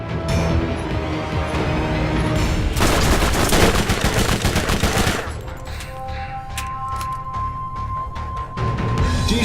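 Rapid bursts of SMG fire from a Dahl-allegiance shooter in Borderlands 1, loud and sustained, with a dense stretch of automatic fire in the middle and more scattered shots and game effects afterward.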